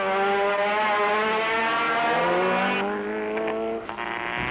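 Off-road rally race cars from the 1991 Tongaland event, one being a Motortech Raceco, roar loudly with sustained high engine revving and shifting pitch, close by and continuous with no talk.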